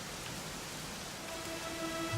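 Steady rain falls in Dragon Quest XI, a dense, even hiss of drops that fills the whole scene at a constant level with no talk over it.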